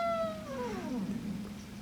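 Brass glissando fall-off at the end of a trumpet or trombone take on a theme song, a single faint sustained note sliding downward and fading into a low background hum.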